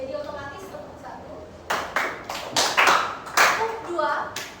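Junior high school class in a practice teaching lesson doing an ice-breaking clap game, a few sharp group claps in quick succession following a short stretch of voices.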